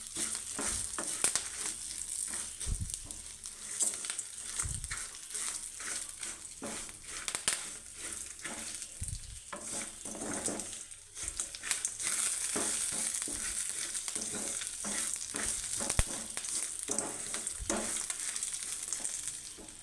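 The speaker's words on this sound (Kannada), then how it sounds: "ಈ ಥರ ಎಣ್ಣೆಲಿ ನೀಟಾಗಿ ಹುರ್ಕೊಂಡು" Ingredients frying in hot oil in a pan for a ground side dish served with rice and dosa: a close, steady crackling sizzle with soft stirring scrapes throughout, no voices.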